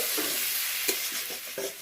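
Boiled greens sprinkled with salt are stir-fried in a pan, giving a soft sizzle with a few short scraping strokes from the spatula, close by and fairly quiet.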